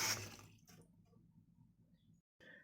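Spruce needles being rinsed in water: a brief splash and stream of running water at the start, then quieter trickling and dripping, with a faint rattle near the end.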